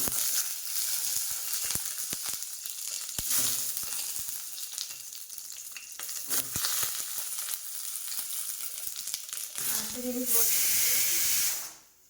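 Vegetables frying in a hot pan produce loud, sustained sizzling and hissing with scattered crackles and stirring knocks, ending with a brief burst before cutting off.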